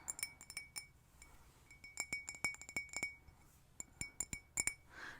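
Small vintage Donald Duck themed drinking glass clinking in a quiet room, a rapid series of bright, close, ringing taps in several bursts with short pauses between them.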